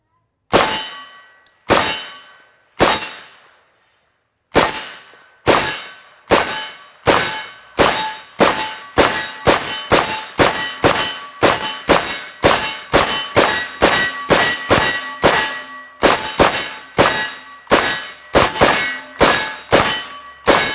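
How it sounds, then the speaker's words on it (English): A Century Arms UC-9 9mm carbine is fired at steel targets in long strings: many sharp ringing metallic clangs come evenly spaced, slow at first and then quicker, with brief pauses between magazines. "we're just going to run some magazines, so here we go"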